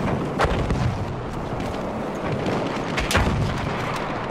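Gunfire and heavy booms from the World War I video game Battlefield 1 fill a loud, dense battle scene, with sharp cracks standing out at a few points over constant rumbling.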